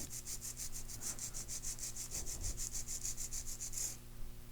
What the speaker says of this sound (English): Filing straight across until the tip of the free edge is flush with the file.